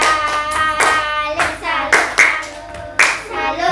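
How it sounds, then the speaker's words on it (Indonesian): A group claps together in the rhythmic Indonesian 'tepuk salut' clapping chant, sharp claps landing in short bursts with pauses, close and fairly loud. "kita beri tepukan biar semangat lagi yuk"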